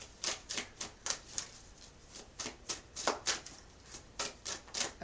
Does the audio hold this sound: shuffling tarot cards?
yes